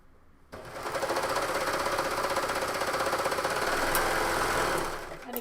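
A sewing machine stitches coat fabric steadily for about five seconds, a continuous fast mechanical whir and rattle close by, starting abruptly and stopping near the end.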